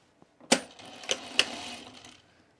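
A sewing machine sews a shoulder seam on a V-neck coat, giving a short mechanical burst with a few sharp clicks and a brief whir, close and fairly quiet.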